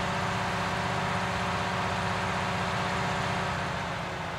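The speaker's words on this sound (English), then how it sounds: "the sounds on this tractor are different as well" A tractor engine in Farming Simulator 19 idles with a steady, continuous low drone that holds even and loud throughout, with no voices.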